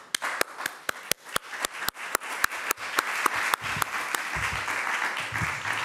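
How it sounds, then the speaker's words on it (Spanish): An audience at a film press conference claps in sharp, distinct applause that starts sparse and then thickens into a denser, steady patter, heard alone without speech. "Sí, un aplauso, ¿no?"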